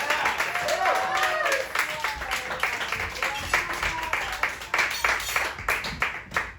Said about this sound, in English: applaud massively